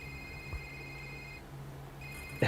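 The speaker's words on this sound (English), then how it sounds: "Here we get the phone call." Phone ringing in the video game A Short Hike: a soft electronic ring tone that sounds, pauses, then starts again over quiet game ambience, followed by a short louder blip at the end.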